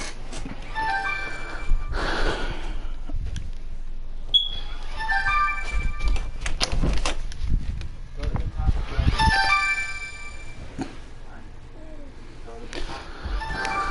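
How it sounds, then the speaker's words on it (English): A phone rings off and on, thin repeated electronic tones in short bursts mixed with game sounds and breathy noises, moderately loud. "Oh, there's a phone ringing."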